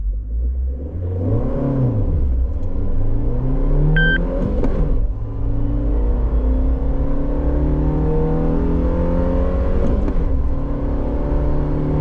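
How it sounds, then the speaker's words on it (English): A 2024 Suzuki Jimny XL five-door accelerating hard with quick, early upshifts, its engine note climbing and dropping at each gear change, loud and close throughout with steady road rumble and no talking. "This time I'll short shift it and not rev it up so much from the start."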